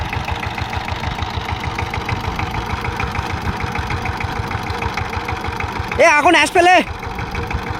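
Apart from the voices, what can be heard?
Saifing 12 horsepower power tiller engine running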